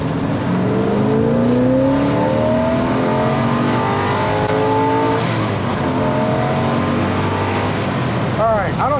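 A 1964 Corvette engine revs hard and loud, its pitch climbing repeatedly in rising sweeps over a sustained roar, with a sharp squealing burst near the end.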